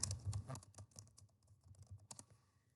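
Quick fingers type on a computer keyboard, the key clicks coming in rapid irregular bursts close to the mic, fairly quiet, with no speech.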